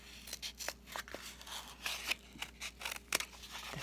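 Scissors snipping a toilet paper roll to shape a craft fish fin, a series of close, crisp cuts in an uneven rhythm, quiet and alone.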